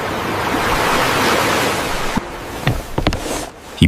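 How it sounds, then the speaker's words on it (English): Distant sea waves wash in a steady broadband roar for about two seconds, then thin out into a quieter hiss broken by a few soft splashes and taps. "And the sea whispered in the distance."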